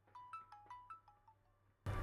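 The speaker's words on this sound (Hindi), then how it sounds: "ची ची ची ची सी आवाज़ आएगी, फटी फटी सी" A Redmi Note 5 Pro phone plays its ringtone through a weak, distorted speaker: a short run of thin, repeating electronic notes in a bouncing rhythm, fading out before an abrupt burst of harsh crackling noise.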